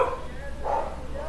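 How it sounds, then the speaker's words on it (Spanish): Small dogs passing by give a couple of brief, faint barks and whimpers over a low background hum, with no speech. "Unos perritos que vienen por aquí."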